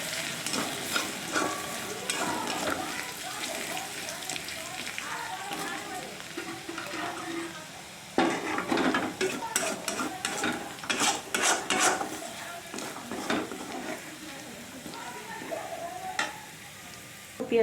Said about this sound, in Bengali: রসুনটা একটু ভাজা ভাজা হোক।